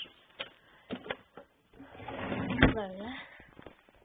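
A desk drawer in a child's room slides open with a few short knocks and scrapes, followed by a longer rubbing slide, while someone talks nearby.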